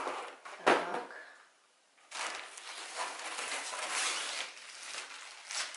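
The carrying bag of a ring lamp is unzipped in close, quiet surroundings: one short zip, a brief pause, then a longer, steady zipper pull.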